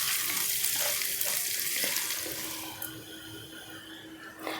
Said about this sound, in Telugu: ఈ రెండు 1 నిమిషం పాటు ఫ్రై చేసుకుందాం